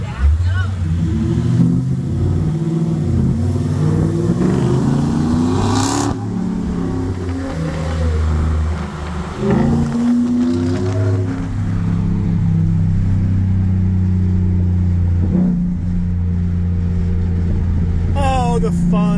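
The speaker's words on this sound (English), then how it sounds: "Oh, the fun of engines and noise." At a Sunday car meet, a car engine revs and accelerates with a loud, sustained roar that rises and falls as people talk nearby throughout.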